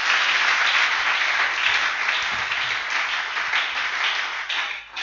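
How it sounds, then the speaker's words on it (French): A church congregation applauds Jesus, with a dense, steady roar of many hands clapping together that fills the whole stretch and eases slightly near the end. "Acclamons Jésus."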